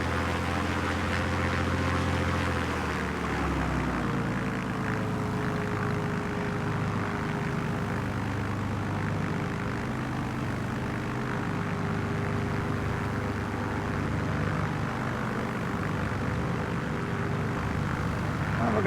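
Propeller engine of a Yakovlev Yak-9 fighter in a flight simulator near Mount Beauty, a loud steady drone throughout with a drop in pitch early on, no voices.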